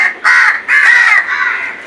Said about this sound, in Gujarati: હવે આમાં ઘણા કાગડા છે